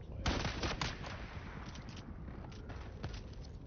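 Bursts of rapid gunfire crackle through a dense, noisy Dune: Awakening game soundscape, with a few sharper shots standing out over constant rumble.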